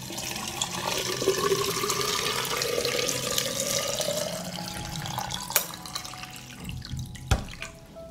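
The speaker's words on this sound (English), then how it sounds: "I'm going to pour the water into the jars to cover the tomatoes." Water is poured into glass jars packed with tomatoes for canning, a steady rushing stream running for several seconds with a rising fill tone, then a brief clink and a sharp knock near the end.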